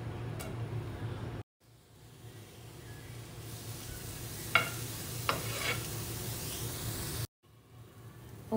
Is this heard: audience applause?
no